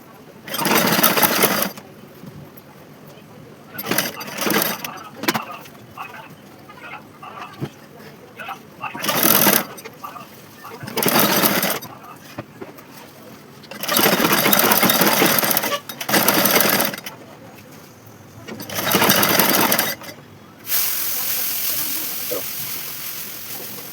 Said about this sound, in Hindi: मैं इस तरह से फोल्ड करके ही सिल रही हूँ।